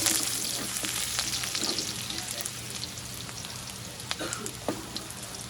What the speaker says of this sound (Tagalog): after a minute po, lagyan natin ang bawang at sibuyas